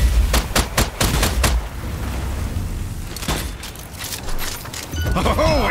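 Bursts of rapid gunfire from the video game Strange Brigade, loud and close, in quick volleys at the start and again near the end with quieter game sounds between.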